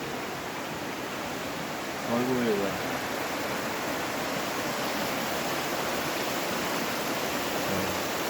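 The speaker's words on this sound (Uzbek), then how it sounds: "Shohimordon soy." The Shohimardon mountain stream rushes past a summer resort in a steady, loud, broadband roar, with faint voices briefly audible over the water.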